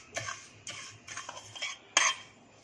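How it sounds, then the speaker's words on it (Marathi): A spoon stirs cumin seeds, cloves and black pepper dry-roasting in a pan over a low flame, making repeated light metallic scrapes and taps in an uneven rhythm, close and fairly quiet with no talk. "मंद गॅसवरती जिरे हे हलकेसे 1 मिनिट फक्त परतायचे आहे"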